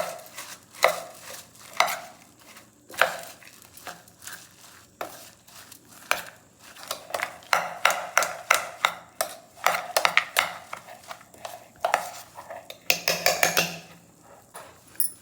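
A spoon scrapes and clatters against a bowl while mixing a spicy Karur-style egg garam snack, giving sharp, irregular clinks and stirring sounds up close, with no talking.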